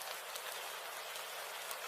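Rain falls in a steady, even hiss of dense droplets throughout, with no talking.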